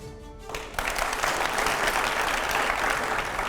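An audience at a televised Indian political interview bursts into applause after a brief tonal pause, the dense clapping rising quickly and staying loud and even to the end.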